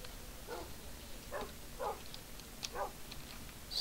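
Dogs in the Minecraft video game giving several short, faint barks or yips at irregular intervals over low background noise.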